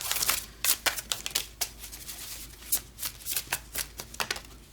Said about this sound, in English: Come on now, one card that represents Donald J. Trump.